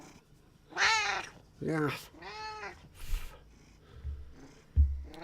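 A pet cat meows in several drawn-out, rising calls at close range, with faint purring between them, while a person talks briefly nearby.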